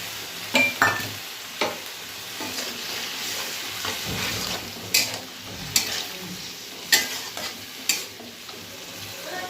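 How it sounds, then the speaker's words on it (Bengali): Spice paste frying with potato and eggplant in a pan, a soft sizzle broken by sharp, close scrapes and clacks of a stirring spoon at irregular intervals, with no voices. "এবার একটু মশলাটা ভালো করে কষিয়ে নেব"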